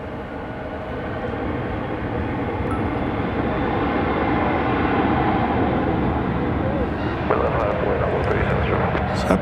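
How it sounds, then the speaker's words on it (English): An American Airlines jet rolls and lifts off from DFW Airport at night, its engines giving a steady, broad roar that swells slightly and stays loud throughout. "So that plane just barely lifts off"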